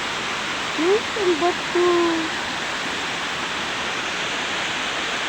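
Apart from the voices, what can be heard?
flowing water at Busay Spring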